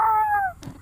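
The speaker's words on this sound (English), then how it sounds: "What does the dog say?" A dog in the I Am Cat video game gives a single drawn-out howling call that slides downward and fades, followed by a short sharper yelp at the end.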